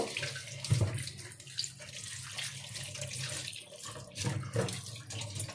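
Tap water running steadily over a whole hilsa fish being washed by hand, a close, continuous splash with a few louder gushes, no voices.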